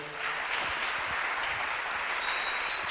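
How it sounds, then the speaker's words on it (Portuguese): A church congregation claps together in a dense, even wash of applause that holds steady and fairly far off for a few seconds, with no talk over it. "Dê um aplauso ao Senhor."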